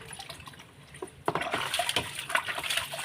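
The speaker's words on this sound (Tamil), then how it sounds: "தண்ணி பிடிச்சிட்டு வந்து சிம்னியை கழுவிடலாம்" Water runs and splashes steadily after a brief quieter moment, a close sound of rinsing a greasy kitchen chimney, with no talking.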